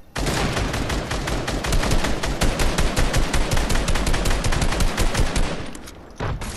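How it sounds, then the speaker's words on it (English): Rapid automatic gunfire in the Fortnite Chapter 2 video game, a loud, dense, unbroken stream of shots that runs for several seconds before easing off, with no voices. "He's the only guy shooting."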